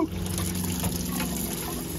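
Water runs steadily from the faucet of a drinking water filter on a boat being prepared for a solo Atlantic crossing, a continuous close trickle with no talk over it.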